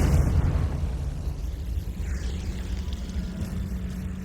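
A Confringo spell blast in the game Hogwarts Legacy lands as a deep, heavy boom that rolls into a sustained low rumble, loud at first and steadily fading over a few seconds.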